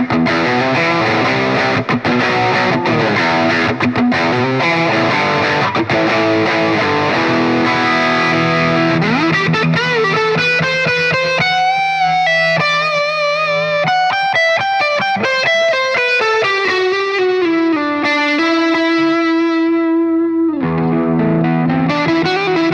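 Electric guitar played through an Axe FX modelling an Orange Rockerverb amp, heavily distorted, strummed chords giving way to sustained lead lines and bends, loud and continuous with no voices.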